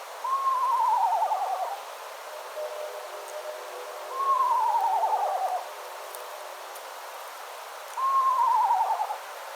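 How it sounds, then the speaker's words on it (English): An eastern screech owl gives three descending, whinny-like tremolo calls at even intervals, clear and fairly close, with nothing else audible between them. "The eastern screech owl's call is a tremolo with a descending whinny-like quality"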